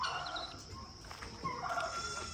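Chickens on a small farm in Ghana cluck faintly now and then over quiet outdoor background noise, with no talk.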